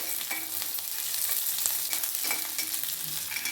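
Green beans fry in a hot pan with an even sizzle, broken by repeated scraping strokes and clinks of a spatula stirring them, close up and with no talking.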